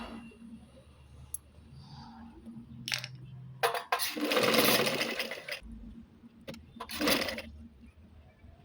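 Domestic sewing machine stitching a kurti in short bursts of whirring run, a few seconds each with pauses between, fairly close with a quiet room behind and no talk.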